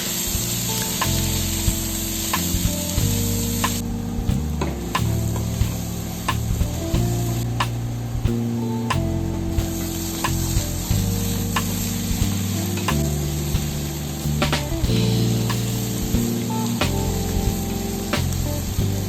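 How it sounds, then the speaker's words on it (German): Roast meat and tomato paste sear hard in a pan, a loud continuous sizzle with repeated scraping and knocking of a spoon against the pan over about twenty seconds. "Das Ganze wird scharf angebraten, dann kommt das Tomatenmark hinzu und wird mit angeröstet."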